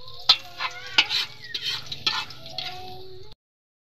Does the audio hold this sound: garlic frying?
yes